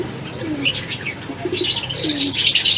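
Ringneck parakeet chicks about a week old give soft, faint peeping chirps in short bursts, close by over a low steady background hum, with no talking.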